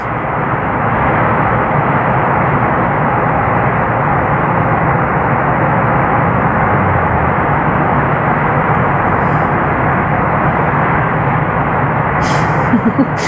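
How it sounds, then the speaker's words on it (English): Dense highway traffic streams past a home right beside the road, a steady loud wash of engine and tire roar with no breaks, cars passing continuously at close range. "That's what you're hearing is all these cars going by."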